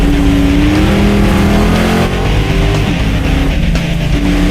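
A 1970 Dodge Challenger's carbureted engine roars on a dusty track, a loud, steady rumble that swells and wavers as the revs rise and ease, continuous throughout.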